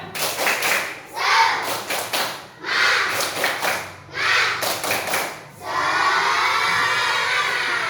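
Children in a classroom perform the rhythmic tepuk semangat clapping chant, loud bursts of group shouting and claps in repeated phrases, then a sustained crowd roar to finish.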